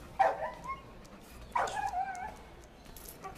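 Dogs barking in a Cuban film scene, two sharp bark bursts about a second and a half apart, moderately close, followed by quieter background.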